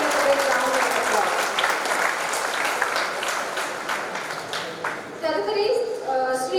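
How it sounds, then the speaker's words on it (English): Audience applause at a 76th Independence Day celebration at VIT-AP, sustained dense clapping from a large crowd that fades slightly before a voice begins speaking near the end. "Please give a big round of applause"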